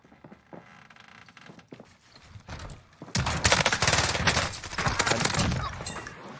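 Video game gunfire from Call of Duty: Warzone crackles in sporadic shots at first, then breaks into loud, rapid automatic bursts and fusillades that stay dense and close through the second half.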